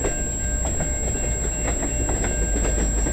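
An LDSX switcher locomotive rolling past close by, steady rumble with rhythmic clickety-clack of wheels over rail joints and a high steady whine above.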